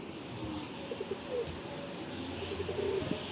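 Soft dove-like cooing, a few low murmured calls repeating over steady outdoor background noise, moderately near.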